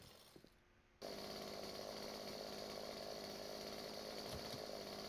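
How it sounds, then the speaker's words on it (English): In the video game 7 Days To Die, a chainsaw cuts down a tree. After a second of near quiet it kicks in as a loud, unbroken buzzing whine that holds steady to the end. "Yeah, chainsaw's a lot of fun,"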